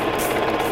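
Sewing machine stitching a trouser waistband seam at 1 cm, a steady close mechanical whir running throughout with a louder thump at the end.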